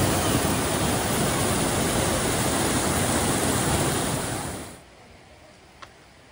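Broadband rush of flowing water in a small Italian town near a lavender farm, loud and steady for most of the stretch, then dropping away abruptly to a quiet hush near the end.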